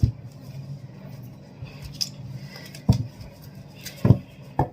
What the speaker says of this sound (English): I'm going to shuffle and I'm going to pull.